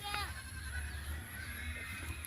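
F1 crossbred goat kids on a farm give a short, shrill bleat near the start, then quieter animal sounds over a low background hum as people talk nearby.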